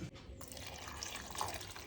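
Water is poured faintly into a blender for pineapple jam, a short, quiet trickling splash at close range.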